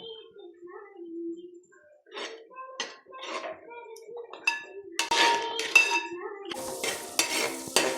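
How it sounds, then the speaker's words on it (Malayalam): Tomato paste poured into a hot pan while cooking chicken biryani: spoon stirring and pot clinks first, then loud, crackling sizzle bursts as the paste hits the oil. "നമ്മൾ തക്കാളി പേസ്റ്റാക്കി വെച്ചിരുന്നല്ലോ, അത് ഒഴിച്ചു കൊടുക്കുന്നുണ്ട് കേട്ടോ."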